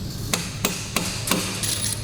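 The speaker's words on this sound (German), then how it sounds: "Okay, mit dem Hammer, das sieht tatsächlich grob aus." Hammer tapping main bearing caps into place on an AMG engine crankcase in a workshop, four sharp metallic strikes at an even, roughly third-second rhythm, close and clear with no talk.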